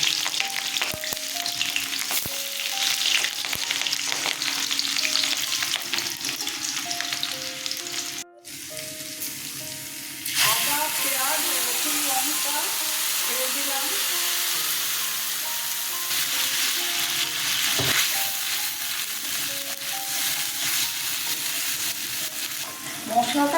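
Cumin seeds fry in mustard oil, with a steady loud sizzle and crackle close by. A short break comes partway through, then the sizzle returns with stirring, and a low tonal hum runs underneath.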